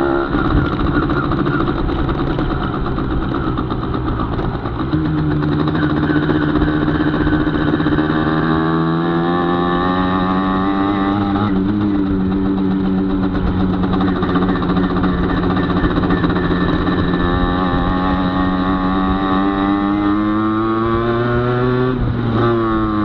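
A small scooter engine revs loudly and continuously nearby in Enschede, Netherlands, its pitch climbing and dropping as the throttle opens and eases.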